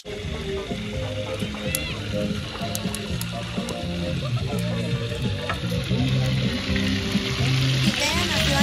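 Steady sizzling and crackling of chicken pieces frying in hot oil on a cooking disc outdoors by a river, continuous and close, with faint voices and clinks in the background.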